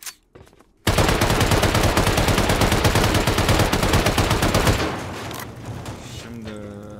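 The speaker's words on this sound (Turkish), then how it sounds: "Patlayıcı mermi atayım ya." Explosive ammo gunfire in Rust erupts suddenly after a brief quiet moment and runs as a dense, rapid, loud burst of shots for about four seconds, then gives way to quieter crackling and a distant tone.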